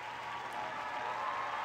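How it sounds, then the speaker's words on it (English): Crowd roar and applause from an American Ninja Warrior video game, a steady, dense wash of cheering holding at an even level for under two seconds, with no talk over it. "Listen to the crowd screaming."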